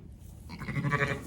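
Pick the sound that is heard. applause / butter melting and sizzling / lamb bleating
lamb bleating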